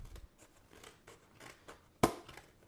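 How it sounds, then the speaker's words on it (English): Scissors cut open the box of a PCIe 4.0 SSD for a Beelink mini PC, giving faint rustles of packaging and one sharp, close snip near the end. "I'm just going to go ahead and cut this open"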